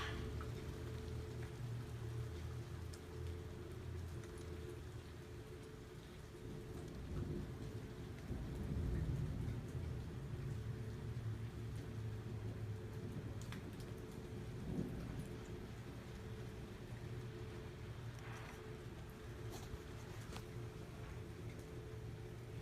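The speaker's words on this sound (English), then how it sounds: "Thunderstorms are my specialty" A thunderstorm with steady heavy rain and low rolling rumbles of thunder that rise and fade, a continuous wash of sound with no voices.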